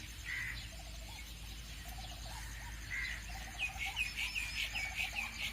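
Farmyard ducks and chickens in a cartoon making a racket while waiting to be fed, scattered calls rising into a rapid rhythmic clucking burst near the end, fairly faint and close.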